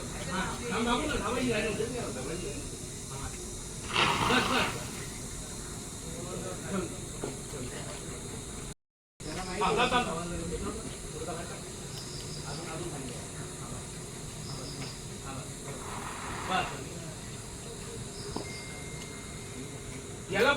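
A fire extinguisher sprays during fire-fighting training, giving a steady broadband hiss through most of the stretch with a short break midway, while people talk over it.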